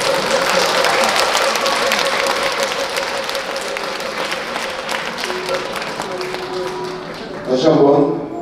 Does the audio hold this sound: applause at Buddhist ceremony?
yes